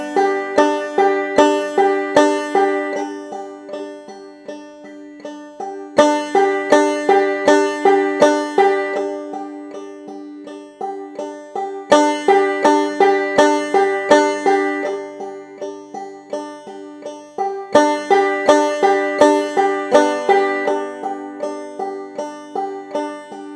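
Clawhammer banjo played in a steady repeating pattern, four loud downstrokes followed by four quieter ones, cycling through several rounds for over twenty seconds, close and bright with no talking.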